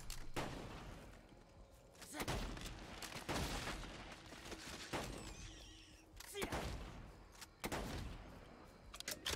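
Rifle fire in a video game: a handful of heavy, booming shots cracks out at uneven intervals, each followed by a short decay, over a faint steady background.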